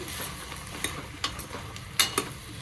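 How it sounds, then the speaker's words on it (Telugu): Vegetables with turmeric and salt are stirred in a pan, a spoon scraping and tapping in a few sharp strokes over a soft steady sizzle, close up and without talk. "పసుపు ఉప్పు వేసుకొని బాగా కలుపుకోవాలి"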